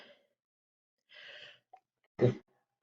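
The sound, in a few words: sneeze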